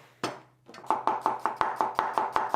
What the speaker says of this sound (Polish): I dalej kroję cebulę.